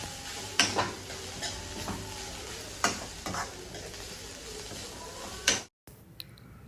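Shredded cabbage sautés over a low flame for veg spring rolls, a close, continuous sizzle broken by sharp scrapes and clicks of a spoon stirring against the pan, ending in a brief cut to quieter background.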